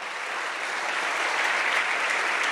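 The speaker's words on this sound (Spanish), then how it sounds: "Bríndale un fuerte aplauso." A church congregation breaks into applause, steady, evenly spread clapping from many hands in a reverberant room, continuous and moderately loud without talk over it.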